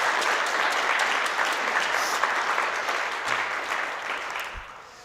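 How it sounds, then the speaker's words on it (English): Audience at a talk on wetlands, waterways and overlooks in the Columbia Valley bursts into applause, a dense, steady wash of many hands clapping close by that holds for several seconds and starts to thin out near the end. "So let's do one more round of applause for Matt."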